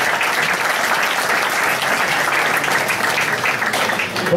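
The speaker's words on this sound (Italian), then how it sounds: "Un applauso a Don Ignazio." An audience bursts into steady, sustained applause for Don Ignazio at a comedy theatre performance, with dense clapping throughout and no speech over it.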